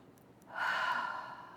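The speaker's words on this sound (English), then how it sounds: "big deep breath." A single big deep breath drawn in during a guided finger-tapping exercise, a soft airy inhale that swells and then slowly fades, heard alone and close.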